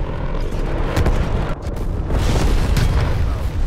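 Strafe run killstreak in Call of Duty: Black Ops, heavy rolling booms and blasts that merge into one continuous, loud rumble of explosions.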